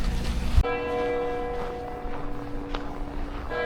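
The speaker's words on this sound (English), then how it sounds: "So as you can hear the bells, it's just gone midday." Church bells ring out at midday over the old town of Quebec City, a sustained pealing tone with layered overtones that sets in suddenly and carries on steadily, with faint street bustle and footsteps underneath.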